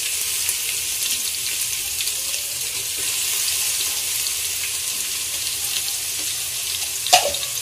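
Ginger-garlic paste fries in hot oil in a pan for a dhaba-style mix veg Kolhapuri, giving a steady bright sizzle and crackle throughout, with a brief louder clatter near the end.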